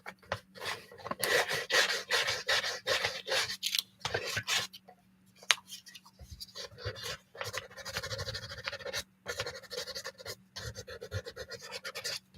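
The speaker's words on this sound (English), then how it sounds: "Sand it a little bit more." Paint being sanded on a craft project, a steady rasping scrub in repeated bursts with short pauses, close and fairly loud throughout.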